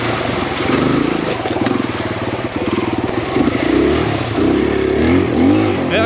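Kawasaki KLX 140RF four-stroke dirt bike engine revving loud and close on a trail ride, rising and falling continuously with clattery mechanical tone throughout, no talking.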